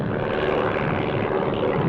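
A propeller aircraft flies over on a locust-control run, its engine drone loud and steady throughout the short stretch.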